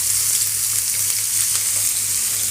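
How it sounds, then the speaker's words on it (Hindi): Onions fry in a pan with a loud, steady sizzle and crackle that continues throughout, close up and with no talking. "प्याज को मैं थोड़ी देर तक फ्राई कर लूँगी"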